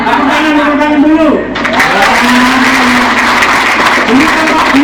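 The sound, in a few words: audience applause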